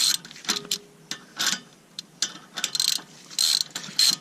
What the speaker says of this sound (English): as tight as you can with a 3/8 ratchet